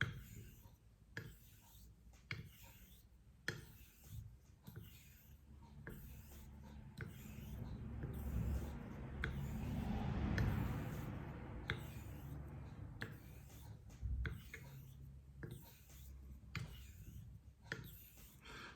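Straight razor drawn in strokes across freshly lapped Naniwa Pro sharpening stones, a soft dry rasping scrape that swells and fades with each pass, close and quiet, alone with no talk.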